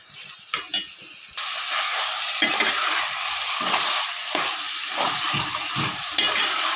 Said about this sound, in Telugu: ఇదంతా బాగా మిక్స్ చేసుకుని అల్లం వెల్లుల్లి పేస్ట్ పచ్చివాసన పోయేంత వరకు కూడా వేయించుకోవాలి.